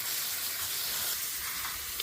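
A hose sprays water onto Carmen Hass avocado trees in a Watsonville, California orchard, giving a steady, fairly quiet hiss that holds evenly throughout.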